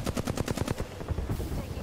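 Rapid automatic gunfire from the battle royale game Apex Legends, a fast burst of closely spaced shots that then breaks into scattered, irregular firing amid other combat noise.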